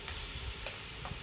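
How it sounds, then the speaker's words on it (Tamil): Ginger garlic paste fries in a biryani pot for chicken biryani while being stirred, a continuous close sizzle with soft scraping stir strokes. "இஞ்சி பூண்டு போட்டு நல்லா கிளறிக்கிடுங்க"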